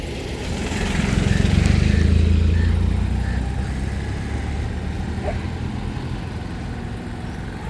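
A vehicle passing on a road where riders practise driving in circles for a licence test, its engine rumble swelling to a peak early, then holding as a steady drone that fades slowly.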